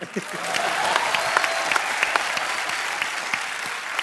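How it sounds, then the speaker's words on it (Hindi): A TV comedy show studio audience claps loudly and continuously, a dense sustained roar of applause with scattered sharper claps throughout. "जोरदार तालियां।"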